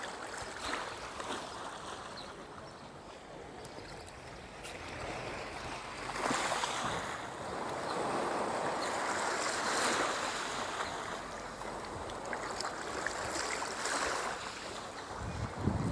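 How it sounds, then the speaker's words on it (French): Steady wash of water and waves in an open outdoor setting, with surges of surf and wind buffeting the microphone, no voices, continuous and moderately loud throughout. "Je vous laisse encore quelques instants avec ce son de l'eau."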